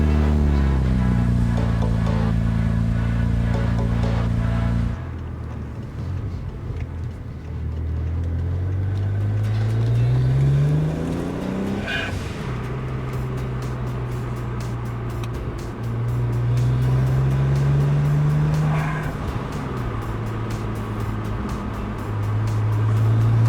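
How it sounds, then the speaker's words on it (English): A cheap BMW car on a test drive, its engine humming and rising through gears with pitch sweeps as it accelerates, steady road noise throughout and a brief dip before picking up again. "I'm gonna go for a test drive now because I feel like it."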